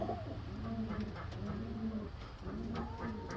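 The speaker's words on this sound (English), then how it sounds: "I got some of Rest in Peace New York Tony's pigeons." Several pigeons coo continuously inside a loft, overlapping low rolling calls with a steady rhythm, close and fairly loud throughout with no talking.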